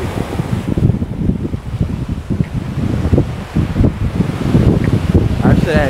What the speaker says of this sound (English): Just inhale the sea breeze.